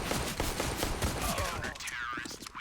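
Rapid gunfire in Counter-Strike during a DreamHack Masters Spring 2021 pistol round, a dense burst of game shots over a steady din, followed by a shorter quieter stretch with a sweeping effect.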